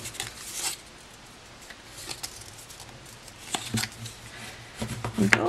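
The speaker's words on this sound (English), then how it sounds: "I'm just going to go over those score lines with my bone folder." A bone folder rubs along score lines on paper for a papercraft tea light box, making short, dry scraping and swishing strokes in uneven bursts, close up, with no voice.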